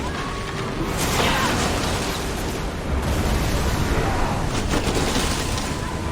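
Archers loosing a volley in Assassin's Creed Odyssey, heard as a dense, continuous roar of battle noise with crackling impacts and booms, loud and sustained throughout with no clear talk.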